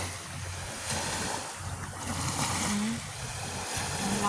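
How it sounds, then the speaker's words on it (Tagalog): Strong sea waves surge and wash onto the shore of Sharp Island in Sai Kung, Hong Kong, at night, a steady broadband roar swelling and receding with wind buffeting the microphone and faint voices in the background. "Ang lakas na ng alon ng tubig."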